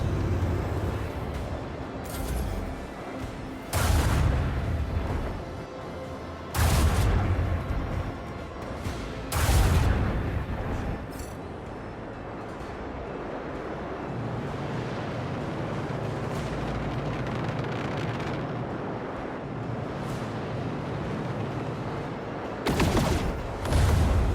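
Macro cannon volleys from a warship in the Warhammer 40000: Rogue Trader video game during a space station raid, booming in repeated heavy salvos over a continuous rumbling battle bed, loud and close.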